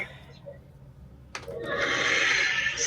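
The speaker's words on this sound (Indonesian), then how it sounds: "Ada suaranya Sruek. Sruek. Kipas angin kan di dapur." A sharp click, then a loud, sustained high-pitched squealing whine that rises and holds, like a squeaking electric fan, with faint background noise.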